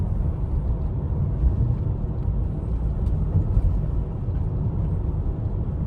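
A Honda Odyssey minivan (2011-2017) with an s-VCM controller fitted coasts off the throttle, giving a steady, close interior road rumble and low engine drone with no talk over it.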